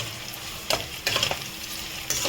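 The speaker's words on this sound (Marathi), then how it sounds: "अर्धा ओनियन मी तळून घेणार आहे" Half an onion frying on a high flame for veg biryani, a steady close sizzle with a few louder bursts of stirring as the slices are turned in the pan.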